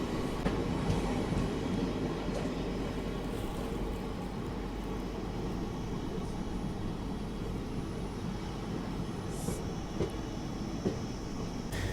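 A train rolling along the tracks between Kushtagi and Hubli, a steady low rumble and rattle of wheels with a constant roar throughout, heard from on board.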